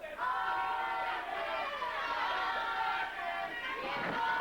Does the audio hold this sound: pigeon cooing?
no